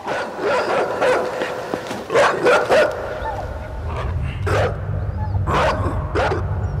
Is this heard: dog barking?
yes